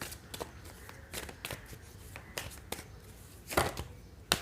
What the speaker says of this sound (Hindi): मैं कार्ड शफल कर लेती हूँ